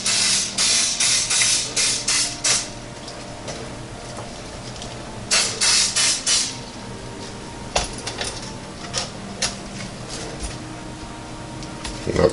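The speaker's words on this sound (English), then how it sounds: "Alright, so we got them all sprayed down pretty good there." Oil spray hisses onto chicken wings in a NuWave Primo air fryer basket in several short close bursts, separated by quieter gaps with faint clatter of the basket.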